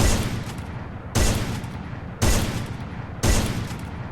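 Four loud sniper rifle shots in the Free Fire video game, evenly spaced about a second apart, each a sharp blast trailing into a decaying echo.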